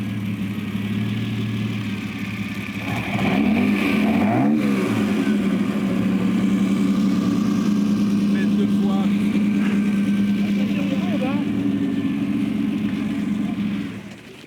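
A Colombo V12 engine, in a car that is not a Ferrari, rumbles nearby and is revved in a few sharp blips before holding a loud, sustained roar, then drops away at the end.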